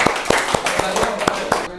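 A class claps hands together in a short burst of sharp, close slaps, roughly eight distinct claps in an uneven rhythm.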